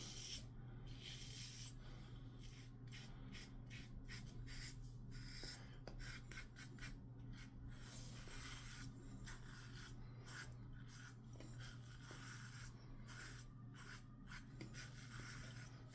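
Straight razor shaving across lathered skin, a continuous faint, close scratchy rasp with bursts of short rhythmic strokes, alone without speech.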